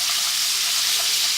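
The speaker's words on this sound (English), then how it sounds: "I'm going to let that sizzle off." Ginger and garlic paste sizzles steadily in a hot pan for a vegetable curry, a continuous bright hiss with no talk over it.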